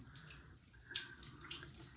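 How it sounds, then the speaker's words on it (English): Cold water runs from a tap in a bathroom sink while skin is rinsed, a quiet steady splashing flow with a few brief brighter splashes. "So I'm just gonna run it under cold water."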